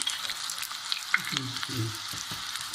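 Chopped onion sizzling in hot oil for a daal tadka, a continuous close hiss with a few spatters and stirring clicks, and a brief murmur of voice underneath.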